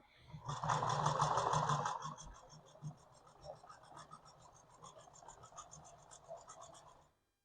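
A sewing machine runs in a loud fast burst while stitching upholstery for the seat of a 1968 Chevrolet G20 van, then continues in quieter, uneven stitching runs.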